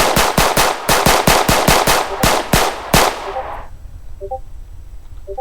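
Video game gunfire at a shooting range, a rapid string of loud, sharp close shots in quick rhythm that stops abruptly, leaving a fading tail and quiet background.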